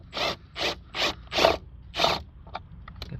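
A ratchet fitted with a long extension and a 13mm socket loosens a bolt on a Mercedes, giving five even, close clicking pulls followed by a few lighter ticks.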